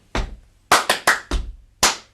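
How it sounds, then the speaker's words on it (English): A body percussion pattern of heavy stomps and bright handclaps, one stomp, three quick claps, another stomp, then a final clap, played alone and close. "it finishes quite simply on 3 and 4 with a stomp and clap"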